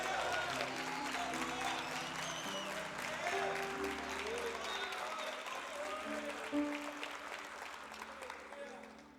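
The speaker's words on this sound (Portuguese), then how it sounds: "Se eu fosse você, eu aplaudia Jesus" Church congregation applauding Jesus during a Portuguese sermon, a broad wash of clapping mixed with sustained worship music, keyboard or organ tones, and voices.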